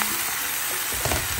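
Curry udon sautéing in a hot pan gives a steady close sizzle with crackling frying noise throughout, swelling slightly near the end as the food is stirred.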